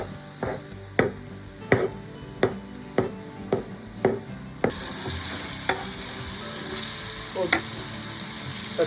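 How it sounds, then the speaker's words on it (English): A knife dices tofu on a board, giving a run of about eight evenly spaced, crisp chops, followed by softer cutting sounds under a steady sizzle of frying. "You see I'm dicing the tofu."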